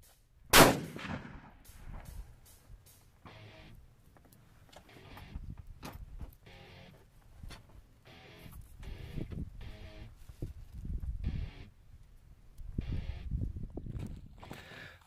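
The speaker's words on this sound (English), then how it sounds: "that was the first five shots using a Small Rifle Prime Brass" A 6.5 Creedmoor rifle fired with small rifle primer brass, one loud sharp report at the start followed by a long stretch of faint clicking, rustling and handling noise, no speech.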